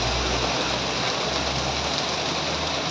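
Heavy morning rain pours down in a dense, even hiss, loud and close with no pauses, during an outdoor bus-spotting outing.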